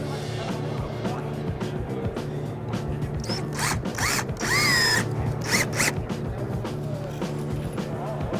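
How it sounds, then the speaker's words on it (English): A power drill drives screws into T-mold track, making short whirring bursts that rise and fall in pitch midway through, over a steady low background hum. "You're going to start screwing your track down."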